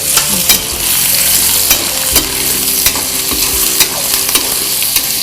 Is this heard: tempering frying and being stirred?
yes